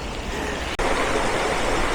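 Waterfall on an island, a dense steady rush of falling water filling the sound, loud and close, with one abrupt momentary cut partway through and no voices.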